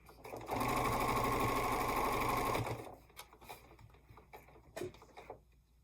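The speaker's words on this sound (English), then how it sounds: "Fold it over, make it fit over there, sew it down." A sewing machine stitching folded fabric pieces runs in one steady, fairly loud burst for about two seconds, then stops, followed by quiet handling clicks and rustles.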